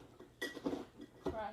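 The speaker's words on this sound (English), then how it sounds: "I just go ahead and crush them down with it before I turn it on." Eggshells crushed inside a jar by pressing down with an immersion blender that is switched off, giving several clinking, crunching knocks at close range with no talk.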